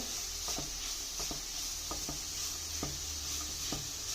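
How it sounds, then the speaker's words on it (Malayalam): Vegetables for a cherupayar and cabbage thoran being sautéed in a pan: a soft, steady sizzle with a spoon scraping and tapping against the pan every second or so, fairly faint. "എല്ലാം ഒന്ന് വഴന്ന് വരട്ടെ"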